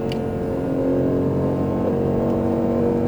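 An Aston Martin Vantage engine at Speed Vegas drones loud and steady under throttle, a sustained harmonic engine tone heard from inside the car with no talking.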